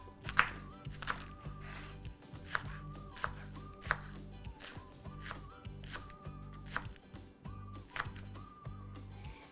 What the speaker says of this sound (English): You want to be careful when it comes to chopping.